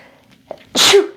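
A single loud human sneeze, preceded by a short quick intake of breath, bursting out sharply and close by before trailing off.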